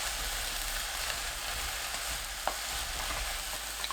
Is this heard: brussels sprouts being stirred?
yes